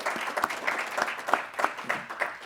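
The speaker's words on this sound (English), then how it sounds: "I want to just give our first panelists a round of applause" A round of applause for the first panelists at a panel discussion, steady clapping from a modest audience with a few sharper individual claps standing out, moderately close and alone without talk.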